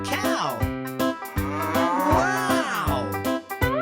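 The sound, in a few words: cow mooing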